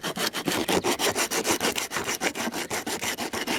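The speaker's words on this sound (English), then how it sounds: "take a little bit of 40 grit sandpaper and rough up the area around the crack" Coarse 40-grit sandpaper scrubbing a cracked plastic car bumper, a rapid steady back-and-forth rasp of about six strokes per second, close and loud with no talking.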